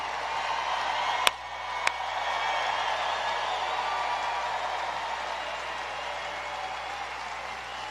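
A large crowd at a political rally in Milwaukee claps steadily, a dense and even roar of applause with a couple of sharp pops near the start.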